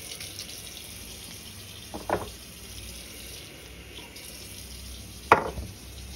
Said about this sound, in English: I am going to add water, just enough to get it to stick together. Cold water, that is.